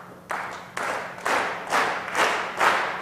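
A crowd claps together in a steady rhythm, roughly two claps per second, building slightly in loudness with no talking.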